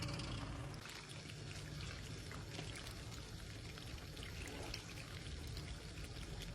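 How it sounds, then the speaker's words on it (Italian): A ladle of pasta cooking water pours into a pan of sauce, a soft, steady liquid pour with faint gurgling, quiet and continuous throughout. "aggiungete un cuppino di acqua, un mestolo di acqua di cottura della pasta"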